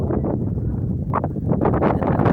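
Wind gusts across the summit of Osmeña Peak, a steady, close rumble buffeting the microphone with faint rustling of plants mixed in.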